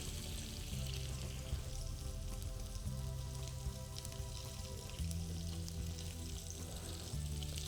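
Ternasco de Aragón lamb shanks fry and brown in a pan, giving a steady close sizzle with crackling spatter, alone and continuous throughout.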